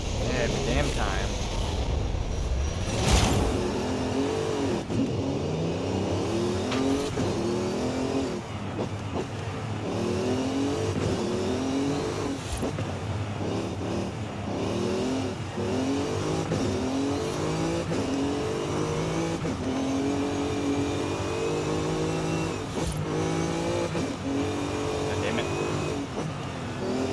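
A race car engine in Forza Horizon 5 revs through a hill climb, rising repeatedly in pitch as it climbs through the gears and dropping at each shift, loud and continuous under someone talking.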